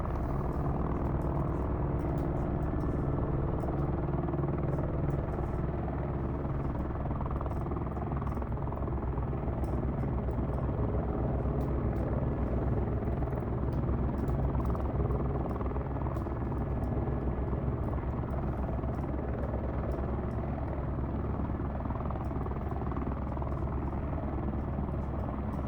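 Helicopter flying in a flight simulator game during a hoist recovery of a deer, a steady, continuous rotor and engine rumble at even loudness throughout, with no talking over it.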